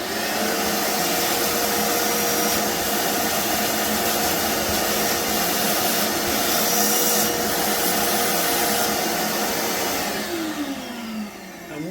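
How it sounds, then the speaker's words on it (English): A hoover runs steadily, sucking dust out of drilled holes in a wall before wall bolts go in; a loud continuous whine holds throughout, dipping briefly near the end. "So what you're going to need is a hoover."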